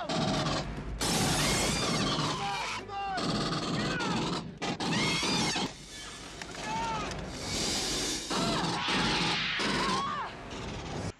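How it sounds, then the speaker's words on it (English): A Nerf Aliens pulse rifle toy plays its loud electronic firing effect, a dense, continuous burst of rapid gunfire and crashing blasts with brief gaps, running almost the whole time. "Everyone knows what the pulse rifle sounds like."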